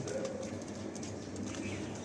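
Baby Madrasi tournament pigeons in a loft give soft, low cooing that runs steadily through a constant murmur of background noise, fairly close.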